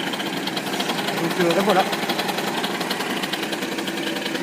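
An MBK Booster scooter's small two-stroke engine idles steadily and fairly loud, with a brief rise in revs midway, while someone speaks briefly over it.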